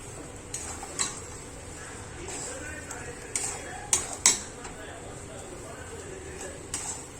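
Ground chana dal batter being stirred in a pan for pithla, with soft scraping and scattered clinks of a spoon against metal over a low background hum.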